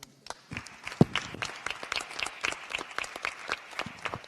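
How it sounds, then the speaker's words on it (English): An audience at a congress panel on gender equality breaks into applause, a crowd of scattered claps that rises quickly and patters on steadily. "So I want an applause for Emilia"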